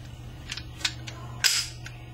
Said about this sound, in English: Dry fire it in a safe direction.